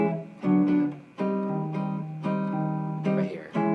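Solo guitar plays the closing bossa nova chords of a tune, a few ringing, richly voiced chords struck one after another and left to sustain, close and clear, with no talking.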